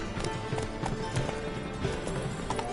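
Horse hooves trotting in the video game The Witcher 3, a steady rhythmic clip-clop that is close and continuous, with faint ambient hum beneath.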